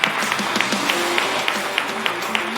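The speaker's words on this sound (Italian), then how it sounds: "Un applauso al basket." Applause for a basketball team on a sports broadcast, with scattered hand claps from a small group. The individual claps are distinct and fairly close, running steadily for a couple of seconds.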